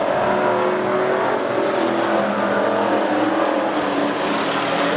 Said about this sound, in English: 253 Holden V8 engines.